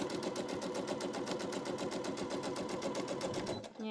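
A sewing machine stitches through quilt block fabric for an Amish Star block, running at a fast, even rhythm with regular needle pulses for several seconds before stopping abruptly near the end.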